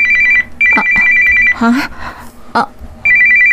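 A mobile phone rings with an incoming call, repeating a bright electronic tone in several short bursts with brief gaps; voices and other noises come in during the pauses.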